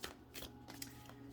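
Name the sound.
shuffling tarot cards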